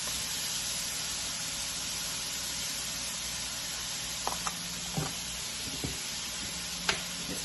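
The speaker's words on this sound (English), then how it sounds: "We're gonna add salt and pepper in here, and then we're just gonna let this saute for a little while." Vegetables seasoned with salt and pepper sauté in a pan with a steady, even sizzle and hiss, close and constant, with a few faint light clicks and taps of a utensil near the end.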